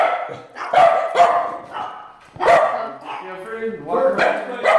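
A small rescue dog barks repeatedly in sharp, close bursts while people talk over and between the barks inside a house.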